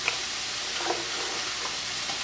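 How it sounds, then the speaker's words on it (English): Frozen broccoli being stirred into a creamy white sauce in a pan, giving a soft continuous wet sizzle and stirring scrape, fairly quiet and steady with a couple of light clicks. "In my white sauce, I'll be placing in 2 cups of frozen broccoli."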